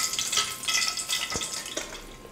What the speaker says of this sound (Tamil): கடைசியாக கருவேப்பிலை கொஞ்சம் பொரிச்சு எடுத்துக்கலாம்